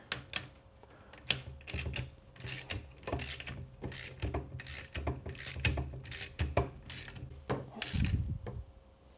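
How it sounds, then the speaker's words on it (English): A workshop press pushes a heim bearing into a KTM PDS motocross shock absorber body, producing quiet, irregular mechanical clicks and ratcheting knocks close to the microphone. "then you simply press the press head in with the bearing until the press head stop touches the shock absorber body."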